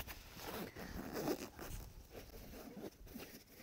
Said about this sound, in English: You take your backpack and you unzip it.